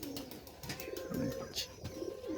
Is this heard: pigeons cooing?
yes